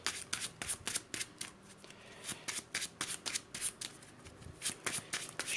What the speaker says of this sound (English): Shuffle his deck.